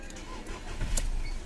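A Skoda Rapid with a freshly repaired starter motor cranks briefly and fires up, the engine catching quickly and settling into a close, steady run within about a second and a half.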